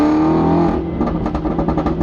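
A car engine roars loudly up close in a rural setting, its pitch climbing before dropping into a rough, pulsing burble as the revs fall.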